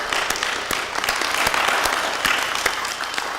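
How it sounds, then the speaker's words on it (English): Audience applause at a round-table meeting, steady dense clapping from a roomful of people lasting throughout, with a few sharper nearby claps standing out. "let's give her a round of applause to send her out"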